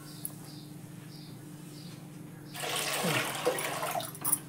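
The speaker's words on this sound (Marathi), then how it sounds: "त्या डब्याने पाणी घालते" Water poured from a container into a cooking pot during kurdai wheat-starch preparation, a brief broad splashing gush of moderate loudness that rises at mid-clip and runs for about two seconds after a quiet start.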